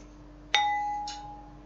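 A wine or gin glass is struck, giving a clear bright ding that rings with a long pure sustaining tone, followed by a softer second tap, recorded close in a quiet room with a steady low hum.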